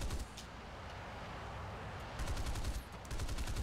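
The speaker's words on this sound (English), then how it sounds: "420mm cannons mounted right on the nose in a horizontal pattern" Nose-mounted aircraft cannons in a horizontal pattern fire in the War Thunder flight game: rapid, loud bursts of gunfire over a steady engine drone, with two distinct volleys near the end.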